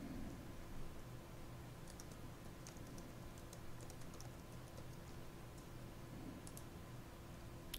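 Mouse or keyboard clicks in a quiet room, a scattering of light, sharp clicks with a low steady hum beneath, close and fairly faint, no voices.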